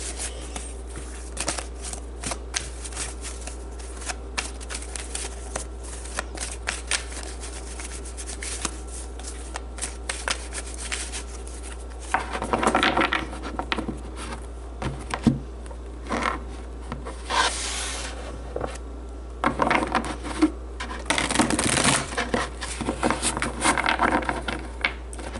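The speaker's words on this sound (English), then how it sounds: "I wish I could shuffle faster" Tarot cards are shuffled by hand over a steady low hum, soft papery riffles and rubbing strokes continuing throughout, with a few louder bursts of riffling, no talking.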